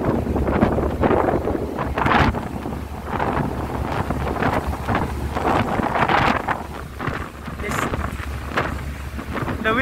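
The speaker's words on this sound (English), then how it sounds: "The wind is very strong" Strong, steady wind roars and buffets the microphone beside the hull of the Diamond Princess cruise ship in dry dock, loud and continuous throughout.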